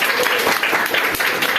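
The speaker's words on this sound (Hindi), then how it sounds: "थोड़ा जोरदार तालियां।" Energetic applause from an audience of students at a school celebration of Gandhi and Shastri Jayanti, a loud, dense burst of clapping close to the listener with no voices over it.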